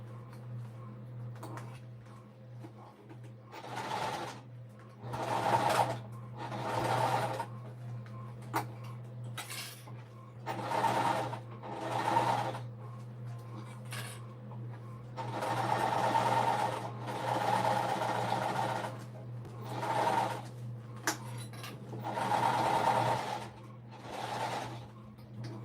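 A sewing machine stitching a peek-a-boo beauty bag, running in repeated short bursts of rapid mechanical whirring separated by pauses, close and fairly quiet over a low steady hum.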